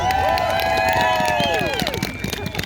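Crowd at a polar dip fundraiser cheering, whooping and clapping for a swimmer, loud overlapping shouts and rising voices over steady applause, with some children's voices mixed in.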